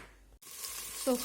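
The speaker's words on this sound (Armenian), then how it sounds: "Սկզբում ձիթայուղի մեջ տապակում եմ սոխը" Onion frying in olive oil for a sorrel soup starts after a brief near-silence as a bright, hissing sizzle close by. A short bit of voice comes in just at the end.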